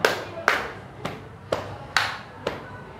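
Schoolchildren in a classroom clap a counted pattern, six crisp group claps at roughly half-second intervals, evenly spaced and fairly close, with a slightly ragged attack on each one.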